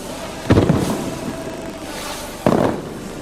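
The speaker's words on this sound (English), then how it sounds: "As the fireworks crackled over Palmer Harbour" Fireworks crackle over Palmer Harbour as a ship departs, two sharp bursts about two seconds apart, each followed by a fizzing crackling tail, heard at a distance across open water.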